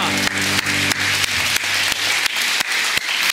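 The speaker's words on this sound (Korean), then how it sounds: "우리 부활하신 주님께 영광의 박수를 올려드리겠습니다" A church congregation claps during an Easter Sunday service, a dense, fairly loud wash of many hands broken by a few sharp isolated claps, with a faint tonal hum underneath early on.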